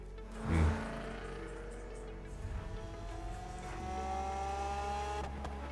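Forza Horizon 3 car engine idling with a smooth tonal hum and a light rev, thumping bump early, near and steady.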